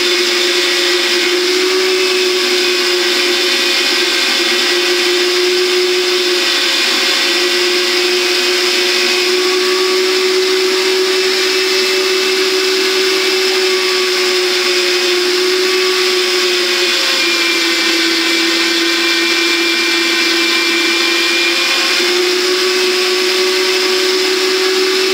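A food processor grates celeriac with a continuous loud motor whine, steady and unbroken throughout, close by with no speech.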